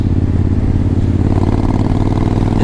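A 2013 Triumph Thunderbird ABS cruiser engine pulls hard under acceleration, a loud, steady, close mid-range drone that climbs gradually in pitch, heard alone without talk.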